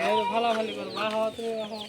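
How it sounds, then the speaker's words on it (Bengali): Hens cluck repeatedly, close and fairly loud, as they run along a village path with their chicks. "এখানে মুরগিগুলো বাচ্চা নিয়ে নিয়ে দৌড়াচ্ছে"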